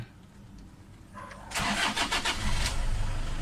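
A Toyota Innova engine cranks briefly and catches, then settles into a rough, steady idle, heard close up after a quiet start.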